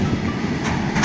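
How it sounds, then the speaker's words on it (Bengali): A train passing on a busy southern-division railway line near Howrah, a loud continuous rumble and clatter of wheels close by for about a second, with no voices. "কত ট্রেন যাওয়া আসা করে এই লাইন দিয়ে"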